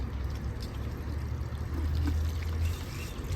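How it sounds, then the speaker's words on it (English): Water pours softly onto the soil of a potted pothos plant, a faint, steady trickle over a low background rumble, with no voices. "And of course, we're gonna add some water."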